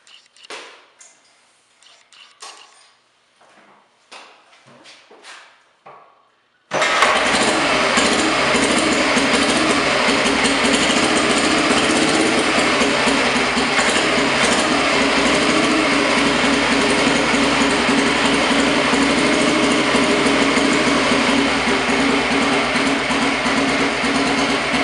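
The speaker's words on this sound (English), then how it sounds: "I'll start the bike and you can hear it run." A motorcycle in a closed garage on a cold day: after some faint handling noises the engine fires and settles into a steady, loud, close-up idle that runs without a break.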